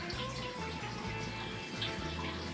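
A liquid cocktail ingredient is poured for two drinks, a steady close trickling and splashing stream lasting throughout.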